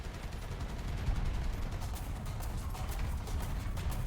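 In War Thunder, a T-80UD/BE tank takes hits from an anti-aircraft gun or infantry fighting vehicle, heard as a dense, continuous rattle of rapid autocannon impacts with a low, rumbling background.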